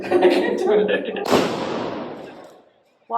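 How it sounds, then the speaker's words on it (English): A firework bursts with a sharp bang in a city street in Spain on St. John's Eve, its rumble decaying over about a second, following a stretch of chatter and crackle. "The fireworks kept exploding into"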